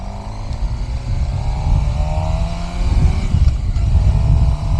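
A Suzuki GSX-R motorcycle on a road by the Mississippi River rumbles loudly and continuously as it accelerates toward about 50 mph, with rising engine tones and wind rush.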